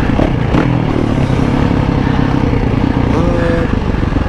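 A 2020 Yamaha 450 motocross bike ridden on a motocross track, its engine a loud, continuous rough drone close by, with clattering chassis noise throughout and no talk.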